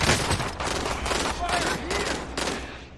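Bursts of rapid gunfire crackle in Call of Duty Warzone, several volleys in a row with short gaps between them, close and loud, with voices faintly mixed underneath.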